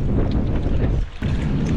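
Strong wind buffets the microphone aboard a small boat on rough sea while out shrimping, a loud, continuous roar with sloshing water and a brief lull near the middle.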